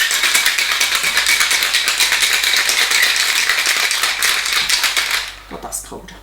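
A sealed cocktail shaker holding an apple ginarita with ice is shaken hard, giving a loud, fast, continuous rattle of ice for about five seconds before it stops.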